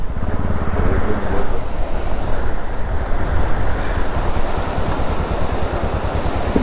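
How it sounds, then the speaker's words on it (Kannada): Rushing stream water churns steadily alongside wind buffeting the microphone, loud and continuous throughout, recorded while off-roading near a water crossing. "ಓಹೋ, ಇಲ್ಲಿ ನೋಡಿ ನೆಕ್ಸ್ಟ್ ಲೆವೆಲಲ್ಲಿ ಹೋಗ್ತಿದೆ ನೀರು."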